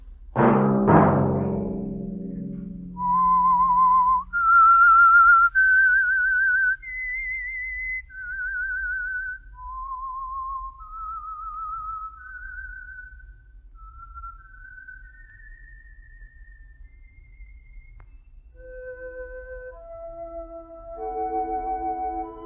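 A struck chime opens, then someone whistles a slow, clear melody of sustained notes, solo and close, ending with a few brighter tones, as the theme of the radio drama The Whistler.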